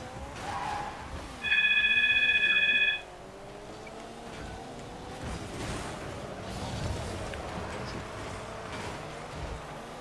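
A telephone gives a short, loud electronic ring lasting about a second and a half near the start, then stops, leaving Rocket League car and engine game sounds running underneath.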